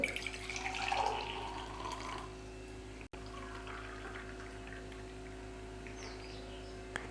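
Jaggery sharbat pours into a glass with a short splashing trickle near the start, then it fades into quiet room noise with a steady low hum.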